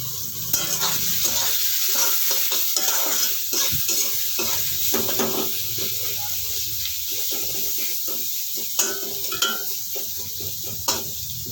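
Sliced onions fry in a pan with a constant loud hiss and crackle near the mic, broken by a few clinks of a utensil against the pan.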